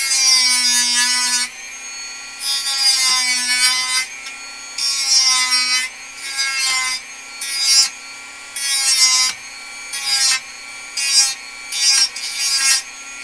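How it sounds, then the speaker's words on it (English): Dremel rotary tool grinding down wood, a loud high-pitched whine in repeated bursts of about a second each, broken by short pauses, close by with no talking. "let's go ahead and Dremel that down real quick"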